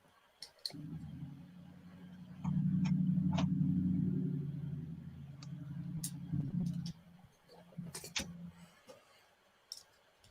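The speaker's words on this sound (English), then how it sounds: "there's cars going by" Cars pass on a busy road outside in snowy conditions, a low rumbling swell building and fading over several seconds, with scattered clicks and ticks nearby.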